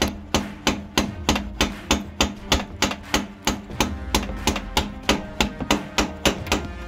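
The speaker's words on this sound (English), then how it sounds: "I'm gonna take the wood end of a hammer here." Steady hammer blows strike a Harley Dyna axle using the wooden end of a hammer, about twenty-five sharp, evenly spaced knocks close up with no talking.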